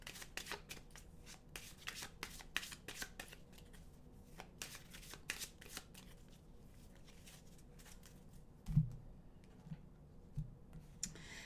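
Close, crisp riffling and flicking of a deck of animal oracle cards in repeated quick bursts, easing off midway, with a soft thump near the end.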